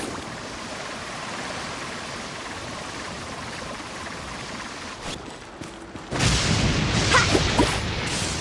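A character surfing through water waves in Genshin Impact, with continuous rushing water and splashing that swells into a louder, brighter surge of spray and whooshing toward the end.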